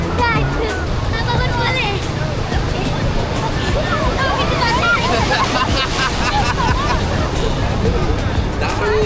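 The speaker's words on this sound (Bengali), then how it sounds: "এইবার একটা বড় ঢেউ আসছে।" A large ocean wave breaks on the beach at Cox's Bazar on a morning visit. Continuous roaring surf wash mixes with wind buffeting the microphone and a babble of people talking and shouting nearby throughout.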